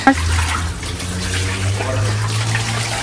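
Water splashing and running steadily over a carpet being scrubbed clean, a constant close wash of liquid sound throughout.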